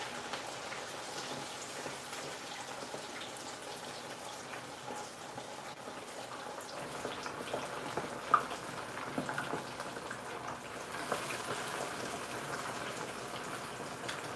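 Continuous crackling and sizzling patter of hot oil spitting while frying runs steadily with a few sharper pops along the way.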